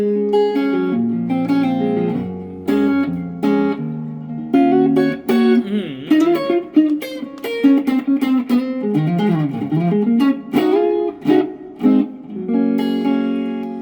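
PRS SE Silver Sky electric guitar played through a BOSS GT-8 multi-effects processor, a run of processed notes and chords with sustained, effected tone, fairly loud and continuous, no voices.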